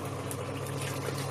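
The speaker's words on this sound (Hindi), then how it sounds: "अब इसमें मैं ये 250 ml करीब पानी डाल दूंगी।" About 250 ml of water pours into a pot of browned mutton for bhindi gosht, a brief close splashing and trickling over steady kitchen noise.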